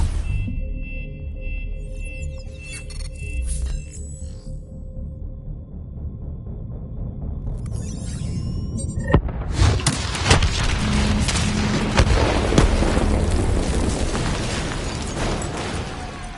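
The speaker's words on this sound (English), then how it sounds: "Detonate now!" Explosions go off in the Call of Duty Black Ops III video game after a detonation, a sudden loud boom near nine seconds giving way to sustained roaring, crackling blasts and debris, following a stretch of quieter mechanical game ambience.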